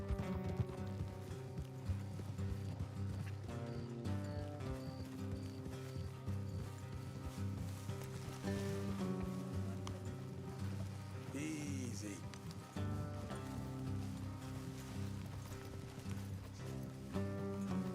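Rhythmic clip-clop of horse hooves trotting along a hard road in the video game Red Dead Redemption 2, set against background music, with a brief spoken word partway through.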